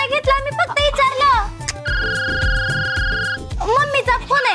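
A mobile phone rings with an electronic ringtone in a Marathi TV serial scene, a steady tonal chime lasting over a second, set between stretches of people talking.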